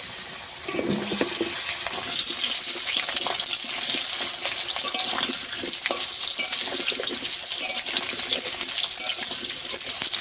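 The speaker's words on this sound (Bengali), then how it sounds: "আলুগুলো ভাজার জন্য তেলের মধ্যে দিয়ে দেবো" Cut potato pieces fry in oil in a wok, giving a loud, continuous, hissing sizzle that stays steady and close. There is a brief handling sound near the start and no voices.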